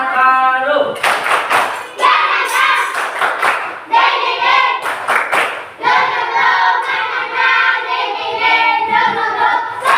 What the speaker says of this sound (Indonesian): Tepuk semangat baru.